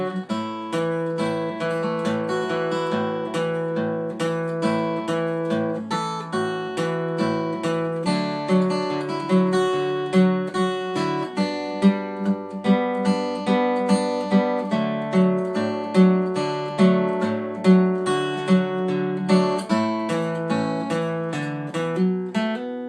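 Fingerstyle blues guitar playing "I Shall Not Be Moved" at a brisk pace, steady thumbed bass notes under a plucked melody line, close and clear with no talking.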